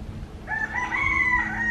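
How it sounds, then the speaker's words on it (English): A single drawn-out rooster crow rises over quiet outdoor background noise at Waimea Canyon, Kauai, fairly faint and a little distant. "It's peaceful other than those chickens."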